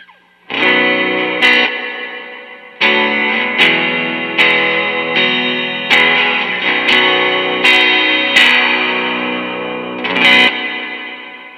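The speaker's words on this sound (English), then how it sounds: "And here's the reverb on its own." Baritone guitar through a Destiverb pedal's spring reverb setting, playing a slow series of strummed chords with wobbly, washy spring modulation and long decaying tails.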